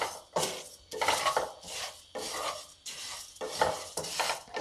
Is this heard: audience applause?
no